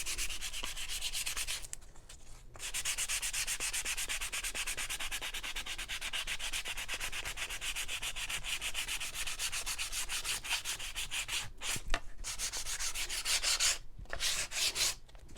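Steady, close scratchy rasping of sandpaper rubbed back and forth over wood, continuous with a few brief pauses, no voices.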